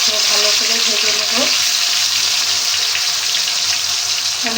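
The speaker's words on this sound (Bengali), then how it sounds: "প্রথমে বেলে মাছগুলো আমি ভালো করে ভেজে নেব" Bele fish frying in oil in a kadai, a steady, loud, close sizzle with crackling spatter that carries on without a break.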